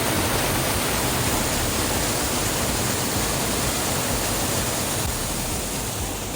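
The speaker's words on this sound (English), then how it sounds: "you can hear the force of the water cascading down the waterfall" Water cascading down Pinsal Falls in Abra, Philippines, a steady, loud broadband roar of falling water that holds constant and close throughout, with no voices over it.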